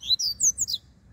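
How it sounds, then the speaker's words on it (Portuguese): A papa-capim songbird, a bigodinho entered in a bird-singing competition in Recife, gives a short, close series of clear, high chirping notes that fade into quiet background. "Ô, papacapim do meu sonho."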